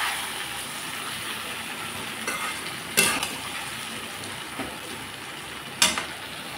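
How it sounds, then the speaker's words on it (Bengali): Fried taro and potato sizzling in a pan with a paste of mustard, cumin and green chilli, a steady close frying hiss broken by a few sharp scrapes of the stirring spoon. "দিয়ে দিচ্ছি মশলা, সরষা, জিরা আর কাঁচা লঙ্কা আমি পেস্ট করে নিয়েছিলাম।"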